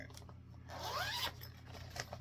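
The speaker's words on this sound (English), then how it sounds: "I just broke the zipper on my, I just broke the zipper." A clothing zipper pulled in one quick rising zip, close and fairly quiet against a low steady background hum.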